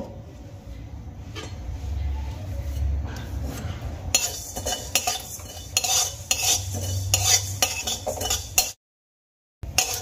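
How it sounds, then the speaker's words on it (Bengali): Whole spices including cumin and fennel seeds being fried and stirred in a pan for a spiced potato curry, with clinking metal utensil scrapes and light sizzling, steady and close before briefly cutting to silence. "এই তিনটে উপকরণ খুব ভালো করে ভেজে নেব।"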